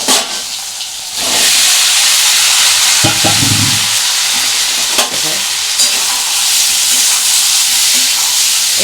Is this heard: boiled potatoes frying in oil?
yes